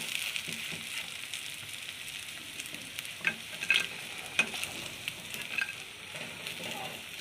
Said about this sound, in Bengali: তো আমার পনিরের পকোড়া ভাজা হয়ে গেছে